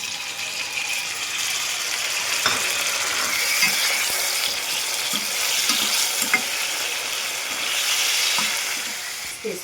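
Fenugreek seeds drop into hot oil for a fish curry, giving a steady close sizzle and frying crackle with scattered light clicks of stirring over the pan throughout.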